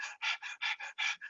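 A person demonstrates rapid, shallow panting breaths, about seven quick, even huffs in a steady rhythm, close and clear with nothing else around.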